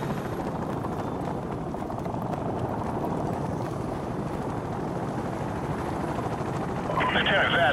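Enemy helicopter in the video game Call of Duty Modern Warfare Remastered, a steady rotor drone with low engine rumble holding at the same loudness throughout, with game voices over it.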